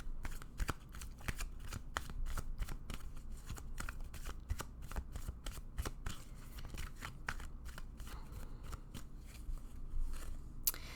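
Tarot cards shuffled continuously by hand, a rapid run of crisp riffling snaps and soft slides, close and steady for the whole stretch with no talking.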